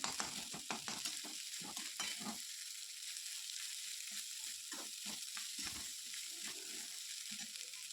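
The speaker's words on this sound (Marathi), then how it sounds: "आता हा भात फोडणीमध्ये व्यवस्थित मिक्स करून परतून घ्यायचा आहे" Leftover cooked rice sizzles and is stir-fried in a hot pan with tempered spices, with repeated scraping strokes of a spoon against the metal over a constant frying hiss.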